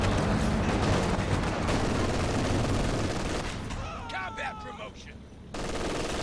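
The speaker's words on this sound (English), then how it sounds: "we've got some artillery coming in here from Jackas4life" An artillery barrage in Company of Heroes 2 fills the scene with dense, continuous rumbling explosions and rattling gunfire, loud and sustained before thinning out into scattered battle noise.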